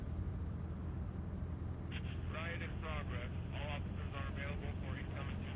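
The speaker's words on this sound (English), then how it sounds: "Hey, a hell of a chopper." A steady, even drone of a helicopter flying in The Walking Dead video game runs throughout, with someone talking over it partway through.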